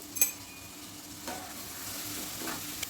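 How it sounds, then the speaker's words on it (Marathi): Tomatoes, carrots, cabbage and drained potatoes stirred in a hot pan for millet khichdi, with a soft steady sizzle and a few light scrapes of the spoon, close and fairly quiet. "आणि हे हलवून घेऊया आपण."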